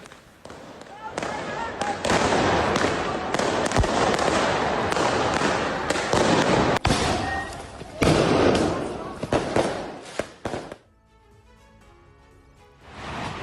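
Firecrackers set off by pro-Palestine protesters during a street demonstration in Berlin, Germany, give dense rapid bursts and crackles over loud crowd noise for about eleven seconds, then fade to a quieter background.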